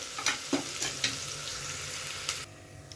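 Onion sizzles in hot oil in a pan for a Maharashtrian chicken rassa with black pepper, bay leaf and black cardamom, a soft steady crackle broken by a few sharp spatula scrapes and taps, close and fairly quiet.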